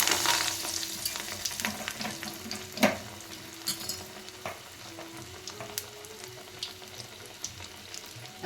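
Avarekalu vada batter drops piece by piece into hot oil and fries with a soft continuous sizzle, small spattering pops and light utensil clinks, fairly faint and without speech.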